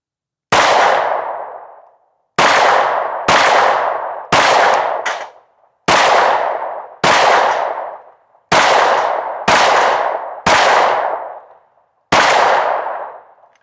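Ten pistol shots from an IWI Masada firing 124 grain +P Speer Gold Dot rounds strike steel plates, each a sharp clanging ring that decays slowly, spaced irregularly at an outdoor range.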